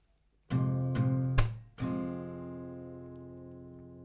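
Two ringing downstrums on an acoustic guitar, then a percussive slap on the strings, then one more strum that rings out and slowly fades.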